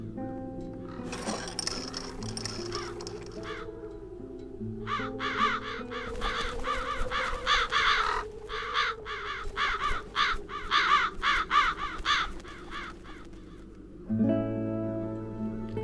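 Crows caw in the video game Das Schwarze Auge: Satinavs Ketten, a dense run of harsh repeated calls over a sustained musical background, with a brief lull before the music continues alone.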